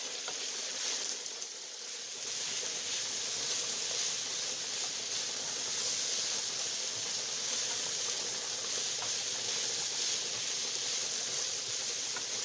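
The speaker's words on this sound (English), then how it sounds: "I'll continue to saute this." Celery sautés in a hot pan for a chicken spaghetti stir fry, giving a steady broadband hiss and sizzle that holds evenly for the whole stretch, close and moderately loud with no talk.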